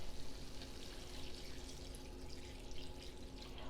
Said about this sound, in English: now I'm going to add the beef broth